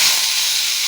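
Sliced bitter gourd hits hot oil with dried red chillies in a wok, giving a loud, bright, continuous sizzle that holds steady for about a second.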